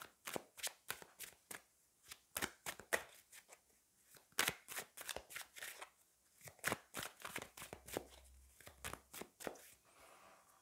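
A Paulina Cassidy tarot deck shuffled by hand, a steady run of crisp riffling card flicks in quick bursts with brief pauses, close and fairly quiet, with no talking.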